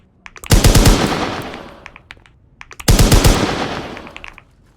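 Two loud bursts of rapid automatic gunfire in a tactical shooter game, each a close sharp rattle of shots fading into a tail, separated by a short pause.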